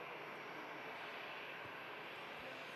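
Jet2 Boeing 757 at Manchester Airport, a steady broadband engine roar heard from a distance, constant and fairly faint for the whole stretch.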